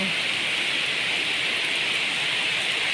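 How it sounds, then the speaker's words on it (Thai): Heavy rain pours down steadily in a hard, dense hiss that fills the whole stretch, close and loud, with no pauses. "ฝนมาแรงมาแรงมากเลยค่ะ ฝนตกแห้งเลย แม่จ้าตกแรงตกแรง"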